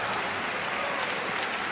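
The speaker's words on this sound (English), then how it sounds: "Generous applause for another terrifically watchable rally." A badminton arena crowd at the 2016 China Masters final breaks into generous applause after a rally, a dense, steady wash of clapping that fills the whole moment with no voices on top.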